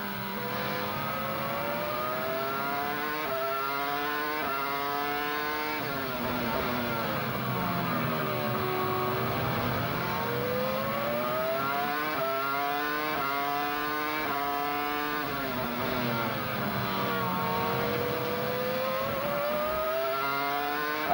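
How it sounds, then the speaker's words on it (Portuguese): A Williams BMW Formula 1 car on Michelin tyres races at the 2002 Spanish Grand Prix, its high-pitched engine rising and falling through repeated gear changes for twenty seconds, loud and continuous, with no speech. "Aí é o Williams, motor BMW, pneus Michelin"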